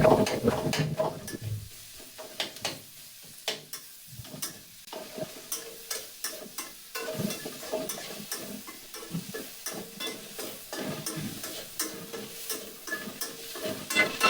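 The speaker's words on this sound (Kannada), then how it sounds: "ಇದನ್ನ ಚೆನ್ನಾಗಿ ಫ್ರೈ ಮಾಡ್ಬೇಕು." Food with salt frying on a low flame in a pan, stirred with repeated rhythmic scrapes and taps of a spatula over a quiet background sizzle, close and fairly consistent throughout.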